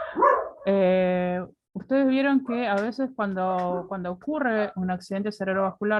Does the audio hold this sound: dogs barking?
yes